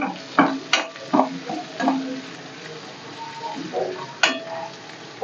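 Dried prawns frying in a pan, with steady sizzling broken by several sharp scrapes and clinks as they are stirred, close and fairly loud with no talking.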